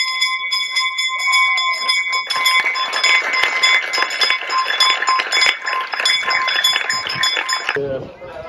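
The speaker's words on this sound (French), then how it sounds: "écoutons encore cette cloche sonner pour la dernière fois." School bell ringing one last time at a village school event, a bright sustained metallic clanging rolling on for several seconds, loud and close, with a rustle of movement near the end.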